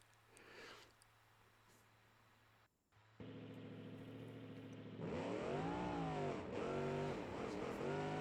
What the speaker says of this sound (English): With more volume, we can hear more of the engine's dynamics.